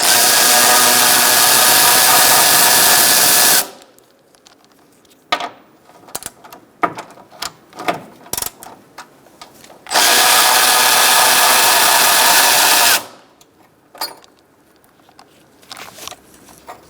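A power tool backs out a bolt on a 2012-2017 Hyundai Accent during a cooling fan assembly swap: two loud, sustained whirring bursts split by a quieter stretch of metallic clinks and taps.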